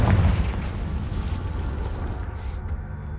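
A Confringo fire spell bursting in Hogwarts Legacy, a loud, deep boom right at the start that rolls into a long rumbling, crackling tail before fading into quieter game ambience.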